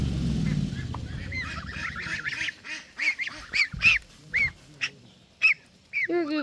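A goose honks close by: a burst of several nasal honks in an uneven series, with a low rumble and scuffling before them.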